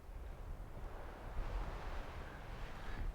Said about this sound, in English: It's pretty windy. I'm not sure how much of it's going to be muffled.